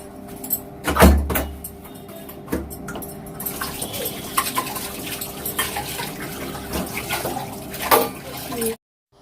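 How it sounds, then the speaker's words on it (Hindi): Dishes are washed in a home kitchen under a running tap, with water splashing steadily throughout and occasional louder clanks of utensils and pots, close and moderately loud, ending abruptly. "फटाफट से धुल लेती हूँ बर्तन।"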